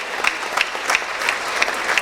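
Audience members at a late-night Hindi humor and satire poetry gathering give a short burst of clapping, a brisk, moderately loud patter of hands without voices.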